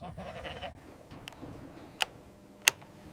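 Goats on a farm bleat at the pen gate in the morning, with a few short, sharp calls standing out over a low background rumble and scattered ticking.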